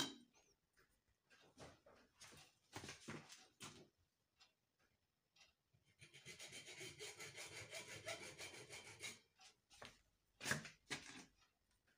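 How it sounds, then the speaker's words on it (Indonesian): A hand hacksaw cuts into the casing of a dry car battery just below the lid, with short bursts of strokes followed by a long run of rapid, rasping back-and-forth sawing. "saya akan menggergaji dengan menggunakan gergaji besi sebelah sini, di samping yang penutupnya."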